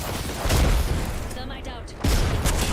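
In Apex Legends, a frag grenade blast booms at close range, followed by rumbling gunfire and a second heavy explosive burst, with a voice talking over the action.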